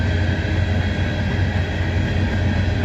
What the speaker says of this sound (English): The SCWX coal train.